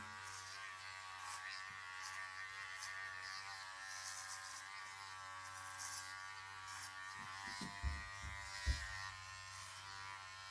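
A steady electric buzz of hair clippers cutting a head to a 1/8-inch buzz cut runs throughout, close and even, with a couple of brief louder knocks near the end.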